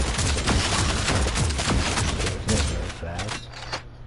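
Rapid gunfire in the video game Warhammer 40k Deathwatch, with dense, close bursts of sharp shots in quick succession that thin out toward the end while a voice speaks briefly.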